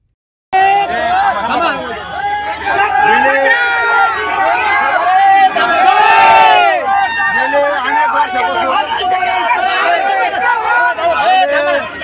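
Thousands of Maratha marchers celebrate on the road, a dense crowd din of cheering and overlapping voices that carries loud and steady throughout, with a brief surge of noise partway through.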